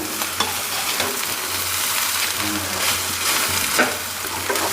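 Spicy egg fried rice made without sauces being stirred in a pan, loud close sizzling with repeated scraping and tossing strokes of a spatula in an uneven rhythm, no voices.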